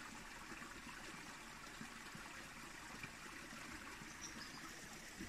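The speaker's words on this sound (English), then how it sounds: "Running water from a stream, little waterfalls." Quiet, continuous babble of a small forest stream with little waterfalls trickling and splashing over rocks in Gowan Valley, steady and unbroken throughout.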